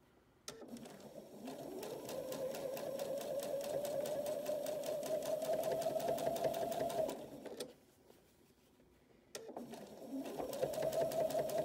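A sewing machine stitches binding onto a fabric cap, running in a steady fast hum for several seconds, pausing briefly, then starting up again, close and clear.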